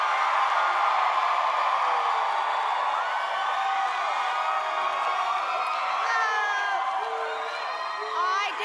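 A large arena crowd cheers and whoops at the 2015 Billboard Music Awards, a loud sustained roar with shrill screams and shouts rising over it, heard alone.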